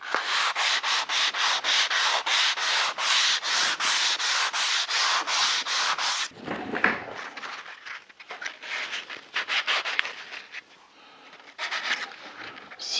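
A wooden guitar headstock being hand-sanded: rapid regular rubbing strokes for several seconds, then slower, irregular scrapes and handling noises, close up with no talking.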